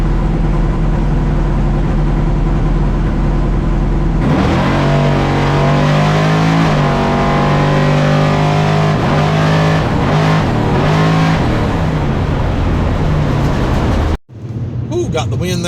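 Engine of a little red race truck running on a track, a steady loud drone with rising and falling revs throughout, cutting off abruptly near the end.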